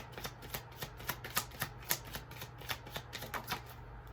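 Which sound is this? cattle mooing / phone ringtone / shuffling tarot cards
shuffling tarot cards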